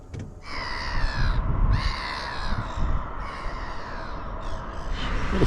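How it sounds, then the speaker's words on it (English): Seagulls give loud, harsh cawing calls one after another by the sea at Hunstanton on a cold winter morning, close by and continuous over a rumbling wind background. "The seagulls are out in force this morning."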